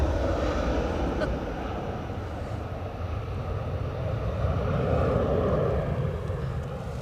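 Steady, loud jet engine rumble and roar from an airliner at Edinburgh Airport, a continuous broad drone that swells slightly midway, heard alone without talk.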